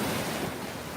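Surf of boogie-boarding size rolls in at the beach, a brief, close wash of breaking water with wind noise over it.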